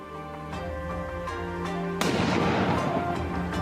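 A samurai-era hand cannon fires in one sharp, loud blast that cuts in abruptly and leaves a broad noisy rumble trailing off, with a steady tonal background beneath it.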